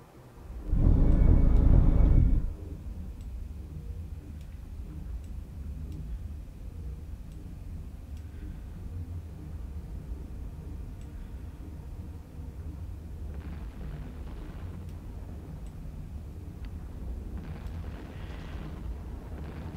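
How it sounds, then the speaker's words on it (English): Bombs from an Athanor structure explode in a large EVE Online fleet battle, with one heavy booming burst near the start, then a steady low rumble and faint later swells. "There's bombs from the Athanor making this particular light show."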